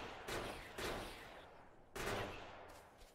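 Turrets fire on biter nests in Factorio, a few heavy bursts of gunfire, each striking sharply and then trailing off, spaced roughly a second apart with no voices over them.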